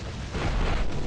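A car blows up in the mobile action game Marvel Future Fight, a loud broadband rumbling blast that swells and holds for about a second with deep low-end weight.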